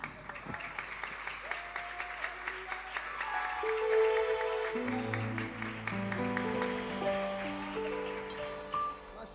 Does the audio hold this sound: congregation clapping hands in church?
yes